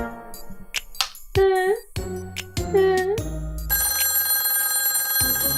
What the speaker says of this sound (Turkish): telefon çalıp dur